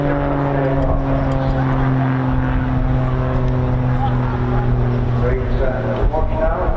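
A display aircraft at the Bournemouth air festival holds a loud, steady engine drone throughout a slow roll, with an announcer talking over it.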